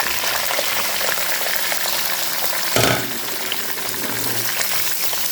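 Onions and curry leaves fry in hot oil in a pan, a loud, close, steady crackling sizzle, briefly broken near the middle by a clatter of stirring before the hiss resumes.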